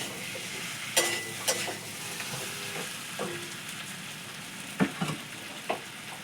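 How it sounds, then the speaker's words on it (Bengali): Soft, steady sizzling of coriander leaves frying in a pan for aloo dum, broken by a few sharp crackles and light stirring clicks, with no voices. "ধনে পাতাটা একবারে ভাজছি"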